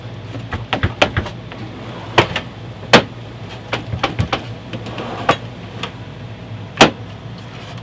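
A series of sharp, dry clicks and knocks as RV cabinet drawers with a wedged side-latching mechanism are pushed closed, irregularly spaced over several seconds against a faint steady hum, close and fairly quiet.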